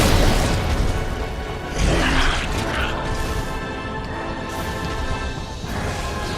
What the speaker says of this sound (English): with your swiping, have a grenade